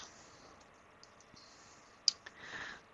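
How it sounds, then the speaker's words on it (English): A computer mouse gives a single crisp click up close, followed by a fainter tick, against quiet room tone and no talking. "Go ahead and click Save."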